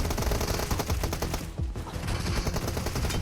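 Sustained automatic gunfire in PUBG Mobile fills the scene with rapid, dense shots and only a brief lull midway, loud and close throughout, with no speech.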